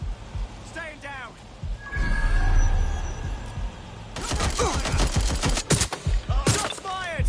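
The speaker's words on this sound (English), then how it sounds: "Shots fired. Oh, this is really fucking bad. They're shooting at us." Rapid bursts of gunfire in the video game Watch Dogs Legion, loud and close, with volleys of shots coming in clusters over a rumbling background while a voice grunts and exclaims.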